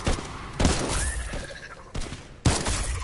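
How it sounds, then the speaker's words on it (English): Gunfire in a Walking Dead zombie video game: several loud blasts in quick succession over a continuous, noisy battle din. "Shots."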